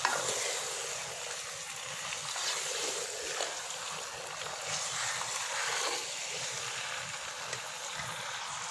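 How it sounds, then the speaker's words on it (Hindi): Chicken frying in a pan with garlic and spices gives a steady, close hiss of sizzling that carries on without a break while the pieces are stirred and mixed through the oil. "उसमें फ़ौरन ही मैं चिकन साथ में शामिल कर रही हूँ। अच्छी तरह से इसको मिक्स कर देंगे।"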